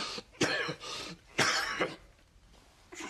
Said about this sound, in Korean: 지금 누가 기침 소리를 내었어?